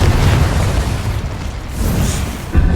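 The Confringo explosion spell goes off in the Hogwarts Legacy video game as a loud, sustained rumbling blast that holds for nearly three seconds and ends with a fresh thump.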